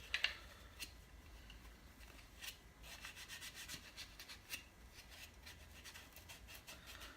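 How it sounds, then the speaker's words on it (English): Scrubbing an aluminum Smith & Wesson M&P Shield pistol part, getting into the nooks and the beavertail: a faint, steady brushing rasp with repeated short strokes, heard alone and close. "But I still want to give this a good scrub."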